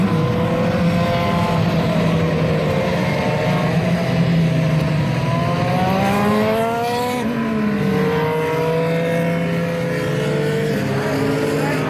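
IndyCar race cars at Mid-Ohio accelerating after a caution, engines whining loudly and close as several cars pass in succession, pitch rising and sweeping with gear changes over a continuous roar.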